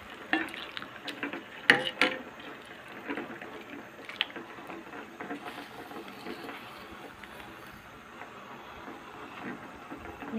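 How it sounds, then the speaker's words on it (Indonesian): Mung beans simmering in a pot of boiling water, a continuous bubbling, churning wash with a few sharper clinks and pops early on, steady and moderately close with no talking. "Nah ini yang buat godok kacang hijau udah mendidih ya teman-teman"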